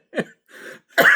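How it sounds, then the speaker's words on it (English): Three short coughs in quick succession, close and dry, the last one harsher and louder, with no talking. "Coughing"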